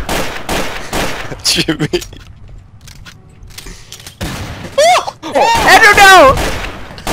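Pistol fire in the Garry's Mod TTT video game, sharp repeated shots cracking between lively overlapping voices of players shouting and reacting, loud and close, with a brief quieter stretch in the middle.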